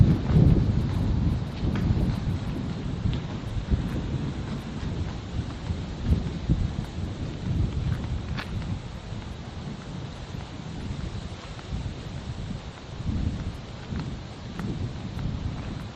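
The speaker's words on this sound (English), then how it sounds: "Nah, still windy." Steady outdoor wind buffeting a microphone, a loud low rumble with gusts that swell and ease throughout, heard alone without any talking.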